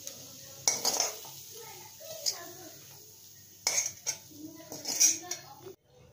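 Metal utensils scrape and clink against a pan and plate as cooked beetroot and chicken-ball mixture is transferred after the gas is turned off, several sharp clatters spaced apart with quiet gaps between, close and moderately loud.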